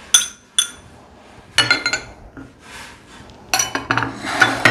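A spoon clinks and scrapes against a bowl while sandwich filling is mixed, with several sharp metallic taps and rattling bursts spaced across the moment, close and fairly loud.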